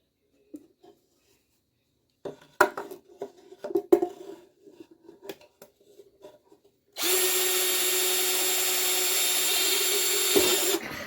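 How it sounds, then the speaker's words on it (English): A few scattered knocks and clicks, then an electric drill whirs steadily and loudly through scrap wood beside a knot for several seconds before winding down. "that knot I think might be problematic to drill through"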